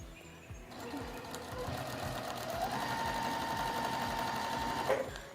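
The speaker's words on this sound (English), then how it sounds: "So take it over to our sewing machine, place our foot down," A sewing machine stitches quilt fabric at a quilt festival with a steady, fast mechanical whir and rapid needle rhythm, fairly quiet and close, continuing throughout with no talk.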